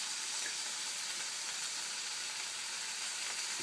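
Bacon strips sizzle in a frying pan for a sandwich, giving a constant dense crackling hiss that stays close and even throughout, with no voices.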